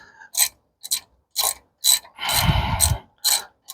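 A ratchet tightens a front brake caliper bolt on a square-body Chevy C10 truck in about seven short, sharp clicking bursts separated by brief pauses, close and fairly loud, with no voices.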